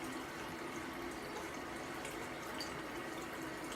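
Tap water runs steadily into a bathroom sink while a face is rinsed after a safety-razor shave, a soft, even hiss heard alone at moderate distance.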